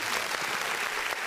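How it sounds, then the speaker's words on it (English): A short burst of steady, dense applause from a small group, close and fairly loud, with no voices over it. "Let's clap that."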